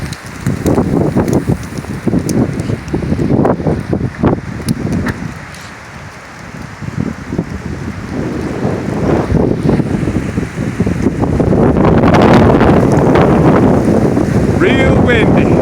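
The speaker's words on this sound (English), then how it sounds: "Probably got at least 40 mile an hour wind" High winds of 40 to 60 mph roar through a lakeside campsite at Allatoona Lake, loud gusts surging and easing then building to a heavy sustained blast against the microphone.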